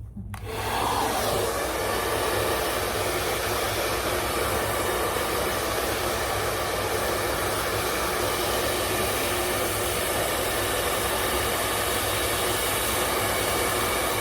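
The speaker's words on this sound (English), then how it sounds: "as we're blow drying the hair" A hair dryer runs continuously during a salon blow-out, drying a client's hair on a round brush. The steady, loud whooshing airflow sounds close by and continues without a break, with no talking over it.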